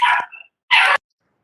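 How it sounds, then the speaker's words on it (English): Two loud, close dog barks, a sharp double bark followed by a short yip and then a single full bark, breaking in during an online Senate energy committee hearing, with nothing else around them. "I think those are your famous dogs."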